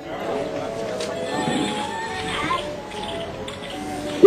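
A storyteller's voice imitates a horse's neigh, giving a few whinnying calls mixed into lively spoken narration, close and fairly loud.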